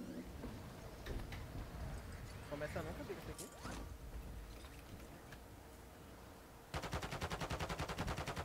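Shots in Call of Duty Warzone, with a few scattered reports early on and then a loud, steady rapid-fire burst near the end, heard under players' talk.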